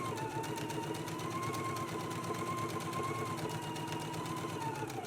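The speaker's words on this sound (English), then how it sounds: "we're going to do a 1/4 of an inch top stitch all the way around the cuff." Sewing machine running a quarter-inch top stitch around a dress cuff, a steady, even mechanical whir with a fast regular needle rhythm, continuous and fairly quiet.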